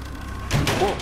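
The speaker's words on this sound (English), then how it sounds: "That door just closed on its own." A door swings shut on its own indoors, a short muffled thud against faint room hiss, followed closely by a startled voice.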